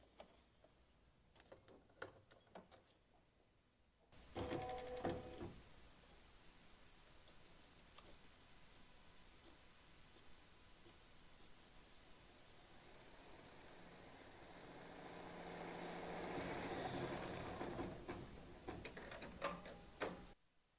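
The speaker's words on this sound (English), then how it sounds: "Place your hoop on your machine, then we'll stitch machine step 1" A home embroidery machine runs a placement stitch on a hooped Halloween bat project: a few taps first, then a steady mechanical whir and rapid needle ticking that swells louder and brighter toward the end, with no voices.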